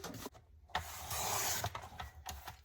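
A thin strip is cut off a handmade journal cover, a close, dry scraping and rasping cut lasting a moment, with short rustles of the material around it.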